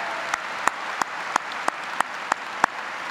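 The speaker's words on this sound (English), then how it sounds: "Let's give all of our CTC students a round of applause." Applause at a high school commencement, steady crowd clapping with a few sharper, evenly spaced loud claps standing out near the front.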